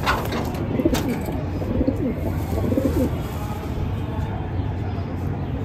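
Andha pigeons coo in low, rolling bursts close by, repeated several times over a steady background hum, with faint bird chirps mixed in.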